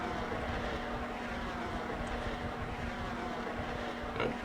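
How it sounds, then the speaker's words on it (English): Rocket engine burning during a space flight in Next Space Rebels, a steady loud roaring drone with a constant low hum, continuous and unbroken throughout. "The engine's burning."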